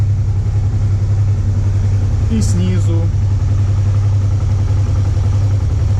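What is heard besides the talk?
Honda Transalp 650 motorcycle engine idling cold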